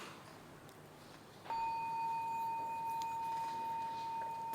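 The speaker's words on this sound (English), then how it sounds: "The bell sound" A Buddhist bell from a bell song recording is struck once partway through and rings on with a steady, sustained tone that holds to the end over faint background hiss.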